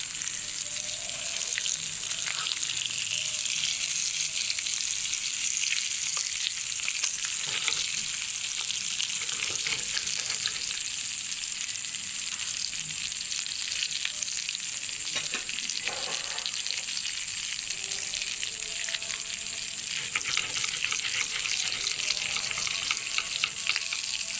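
An egg shami burger patty frying in a pan gives a loud, steady, close sizzle that runs throughout with a few stirring and shuffling noises, and no one speaks.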